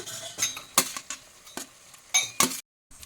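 A spoon scrapes and stirs leftover cooked rice through a spice tempering in a pan in several uneven bursts, with a faint sizzle underneath and a brief silent gap near the end.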